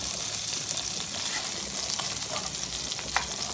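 Kefta meatballs frying in a pan, giving a dense, steady sizzle and crackle that runs continuously at close range with small pops scattered through it.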